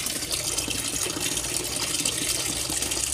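A washing machine filling with water, a steady close rush and gush of water pouring into the drum, continuous and fairly loud with no voices.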